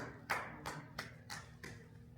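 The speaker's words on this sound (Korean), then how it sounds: "박수." Audience at a Korean network-marketing business seminar clapping in a few slow, separate bursts, about five claps spread evenly, fairly faint and distant in a room with a low background hum.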